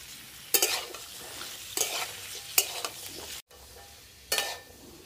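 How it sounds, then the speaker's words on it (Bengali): Vegetables with capsicum and peas stir-frying in a pan, in a rustic village-style vegetarian paneer dish: a steady sizzle broken by four or five sharp scraping bursts as the spatula turns the food, close and fairly loud, with no talking. "সবজিগুলো আর একটু অল্প ভেজে নিয়ে ঢেলে নেব।"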